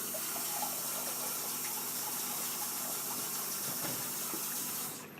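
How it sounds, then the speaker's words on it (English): Water pours in a continuous, full rush into a pot of thick homemade chili, a steady hissing splash that stays even before cutting off near the end. "You can use another 2 cups of water"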